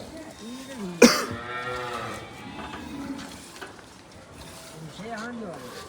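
A pregnant cow at a cow shelter lows in a long, deep moo after a sharp cough-like burst, with people talking throughout.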